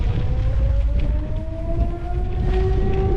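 A siren wails steadily somewhere in Poltava, its long sliding tones rising slowly over a constant blustery wind roar, moderately distant and with no talking.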